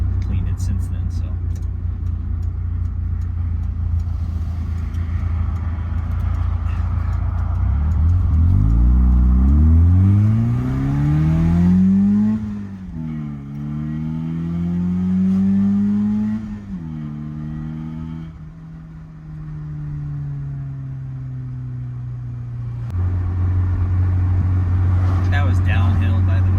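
M42-swapped BMW E21 320i driving downhill, the engine note climbing through the gears in rising sweeps with drops at each shift, heard from inside the car, steady and fairly loud, settling to a lower drone near the end.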